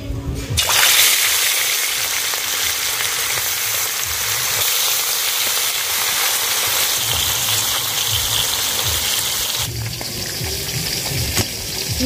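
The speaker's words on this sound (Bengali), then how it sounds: "এবার মাছগুলো দিয়ে দেবো।" Pieces of rohu fish hit hot oil in a hot kadai, bursting into a loud, close, continuous sizzle and spatter that holds steady before easing slightly near the end.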